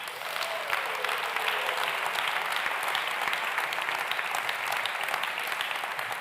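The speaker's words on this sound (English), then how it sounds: "A round of applause for all of our finalists." Applause from a gala audience at the European Social Economy Awards greets the finalists, a full, even wash of many hands clapping that carries on steadily for several seconds without talk.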